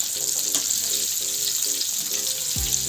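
KFC-style chicken pieces frying in hot oil, a steady dense sizzle with a brief stir or turn of the pieces near the end, close and continuous with no talking.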